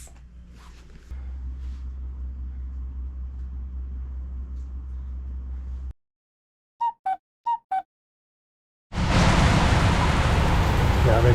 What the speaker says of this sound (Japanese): やべ、超大雨なんですけど。